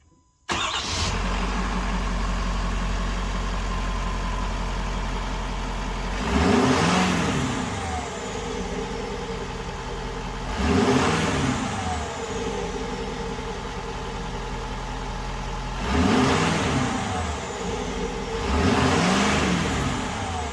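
A 2022 Ford F350 Super Duty pickup's 6.7L Powerstroke diesel with an S&B cold air intake idles with a steady low rumble, swelling into a few brief revs at regular intervals before settling back, close by with no talking.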